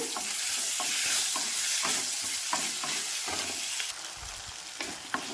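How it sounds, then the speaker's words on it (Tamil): Ripe tomatoes and onion sautéing in a pan, a steady close sizzle with regular scraping stirs of the spoon against the pan throughout. "பழுத்த தக்காளி 2 போட்டுக்கணும். போட்டு அதையும் நல்லா வதக்குங்க"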